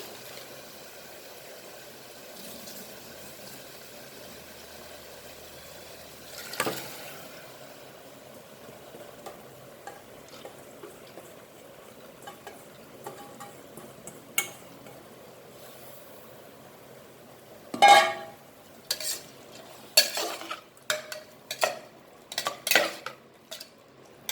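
Soaked dal tipped into a pan of fried seasoning for palak dal, heard as a burst of clattering and scraping from a metal pot and spoon, with several sharp stirring knocks close by.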